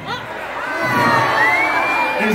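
Concert crowd at a live show in a Waco, Texas bar, loud sustained cheering and whooping that swells over the clip, with high shouts and voices mixed in.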